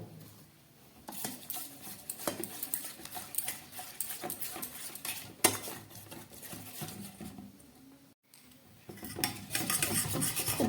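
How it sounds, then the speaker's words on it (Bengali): Cornflour is stirred into a little water in a bowl, giving close scraping, rasping and light clinking sounds in irregular bursts with brief pauses, and no voices. "এই কর্নফ্লাওয়ারটাকে সামান্য জল দিয়ে আমি প্রথমে একটু গুলে নেব।"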